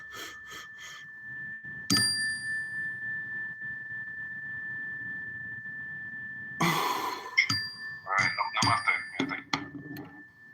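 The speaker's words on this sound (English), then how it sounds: "But I wanna hit the bell" A bell is struck with a single bright ding whose ringing tone sustains for several seconds at moderate level, with more clattering and tinkling sounds following later.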